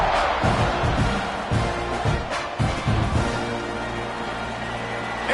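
In College Football 26, a stadium crowd roars continuously just before kickoff, a dense, loud wash of cheering voices that holds steady without a break.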